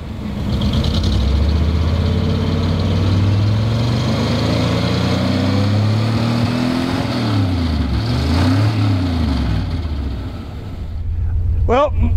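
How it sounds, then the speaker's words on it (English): A 1976 Chevy custom van with a big 6-71 dragster-style supercharger runs loud and close, its mellow, deep engine rumble rising and falling with revving throughout, with a short chirp near the end. "if you rub it up a little bit, you can probably hear the supercharger a little bit"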